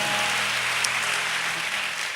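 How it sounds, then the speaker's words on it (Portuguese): A church congregation claps steadily, a dense, even wash of applause from a crowd with no pauses throughout. "Pode dar uma salva de palmas?"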